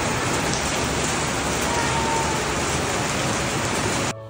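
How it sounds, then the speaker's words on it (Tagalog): Heavy rain pours down in Basilan, a dense, steady roar of drops on surfaces that stays loud and unbroken for about four seconds before cutting off abruptly, with no voices. "grabe pagit kakusog sa ulan sa Basilan"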